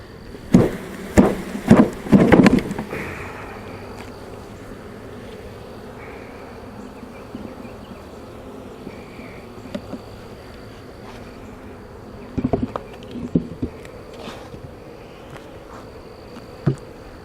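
Honeybees buzz in a steady, dense hum as beekeepers shake them off hive frames during a swarm check. Bumps and knocks cluster at the start and again near the end, and no one speaks.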